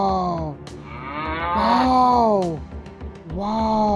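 A cow moos loudly and up close, with long low drawn-out calls, one after another.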